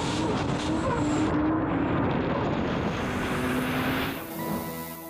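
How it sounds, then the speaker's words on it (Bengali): A racing speedboat running at top speed gives a loud, steady engine roar throughout that eases slightly in the final second. "রেসিং চলাকালীন সময়ে একটি স্পিড বোটের সর্বোচ্চ গতির মুহূর্তটি দেখানোর উদ্দেশ্যে ভিডিওটি"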